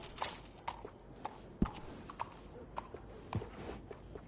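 Horse walking at a slow, steady pace in the Red Dead video game, its hooves clip-clopping in an even rhythm of distinct, moderately close steps over a quiet background.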